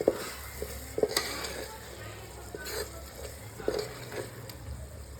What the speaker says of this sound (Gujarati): થોડો લાલ મિર્ચ પાવડર નાખીએ એમાં આપણે જસ્ટ ફોર સ્પાઈસ હવે સારી રીતે મિક્સ કરી લઈએ